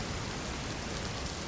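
Heavy monsoon downpour in Ulpad taluka, Surat, Gujarat, a dense, continuous broadband hiss of rain that stays steady and fairly faint throughout, with no voices.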